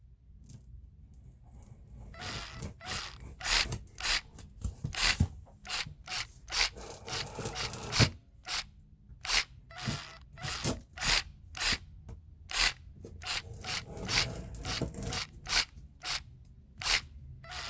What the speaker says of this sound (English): Just gonna cut out this section here.